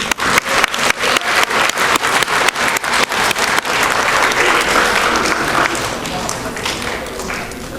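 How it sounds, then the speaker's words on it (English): Loud, close applause from the audience at an 8th grade graduation ceremony at a math and science academy, starting as distinct rapid hand claps that blend into a continuous roar, with crowd voices mixed in before it gradually eases off. "Can we please have one more applause for the mayor,"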